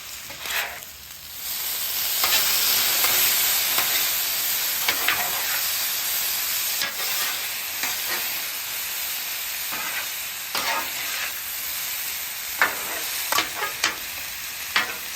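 Sausage and butternut squash frying in butter on a flat-top griddle give a loud, steady sizzle and hiss, with scattered scraping strokes of a spatula stirring the food.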